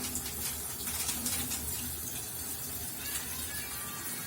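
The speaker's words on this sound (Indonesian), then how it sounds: "Kita buang airnya." Water poured off soaked seeds after a salt-water soak, a steady, continuous splashing and trickling stream held at an even level without pauses, fairly close and alone with no voices.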